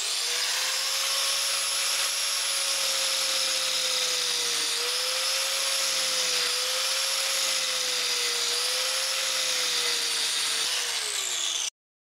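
An angle grinder fitted with a cutting disc scores a shallow guide groove about 2–3 mm deep into metal, giving a steady high-pitched whine with a sustained gritty rasp that holds nearly constant throughout, close and loud.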